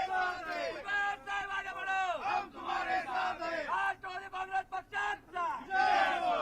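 Crowd in Nashik celebrating Chhagan Bhujbal's ministerial oath, many voices shouting and chanting together in loud, surging waves of cheering that rise and dip throughout.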